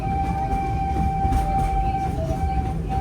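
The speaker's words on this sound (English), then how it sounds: "Train's moving! Here we go!" A themed ride train rumbles steadily with a low rolling drone and a sustained whining tone as it starts to move, heard from on board with no talking.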